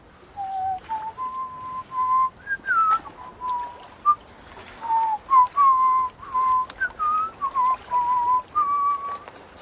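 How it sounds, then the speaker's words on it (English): A person whistles a short series of clear, pitched notes, some of them sliding, in separate bursts, close and fairly loud, with no talking over it. "Whistle."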